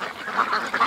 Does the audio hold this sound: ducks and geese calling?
yes